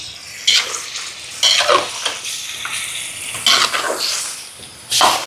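Vegetables being stirred in a pot after salt is added, with several bursts of scraping and stirring at close range against a steady background sizzle and no talking.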